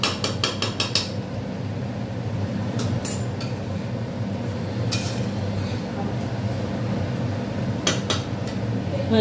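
Chicken biryani being stirred in a crowded pot, a rough continuous scraping and rumble with bursts of metallic clinks near the start and at intervals, heard close.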